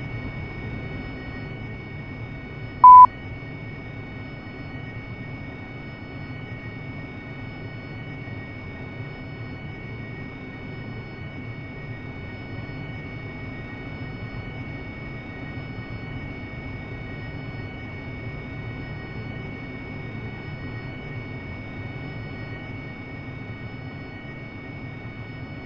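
AV-8B Harrier jet engine while taxiing in the DCS flight simulator, a steady, droning cockpit hum with a low whine throughout and one brief electronic beep near the start.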